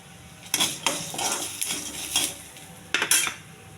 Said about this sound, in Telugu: ఇవన్నీ బాగా వేగాలండి. కొద్దిగా పచ్చిమిర్చి అండి, అవి బాగా వేగినాయి.